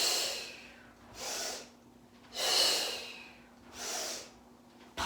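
Four slow breathy exhales during a Pilates rolling-like-a-ball exercise on a mat, each a soft, airy whoosh about a second long with short quiet gaps, close and alone.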